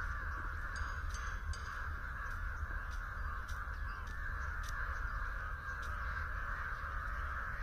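Crows cawing loudly near a wooded area, a flock calling repeatedly in overlapping harsh caws, some sharp and close, over a constant hum of background noise, with no talk.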